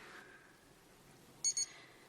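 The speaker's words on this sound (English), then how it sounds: "It's got a stopwatch and an alarm, and it beeps on the hour." A digital alarm wristwatch gives a short double beep, two quick high electronic chirps, after a quiet near-silent stretch.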